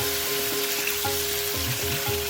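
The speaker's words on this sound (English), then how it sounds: "Now once the oil is hot, then you can add tomatoes in" Tomatoes drop into hot oil in a pan for chicken karahi and sizzle loudly and steadily, with a constant crackling hiss close by and a low hum underneath.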